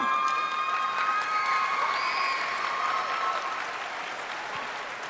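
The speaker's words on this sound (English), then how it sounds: "Thank you for applauding them." Audience at the Highland Park high school graduation in 2019 applauds graduates headed into the military, a dense, steady crowd clapping with a few cheers that holds strong and tapers slightly toward the end.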